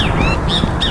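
Birds in a video game chirp and call in short rising and falling whistles, three or four bright calls across a second over a dense steady game background, loud and close.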